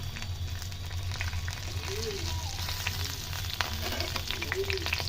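Cumin seeds, a cinnamon stick and cardamom pods sizzle and crackle steadily in hot oil in a pan, a continuous close frying hiss with faint popping throughout.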